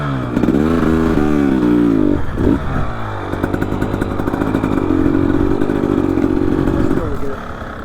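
An off-road motorcycle revs on a remote canyon trail in the Western Rocky Mountains, its engine climbing and falling in pitch, then holding a steady loud drone up close while voices talk over it.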